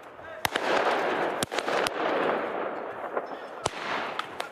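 Fireworks mortars go off during a night riot in a Trappes neighbourhood: several loud, sharp bangs at irregular intervals cut through a constant rumbling, crackling din, some close and some further off.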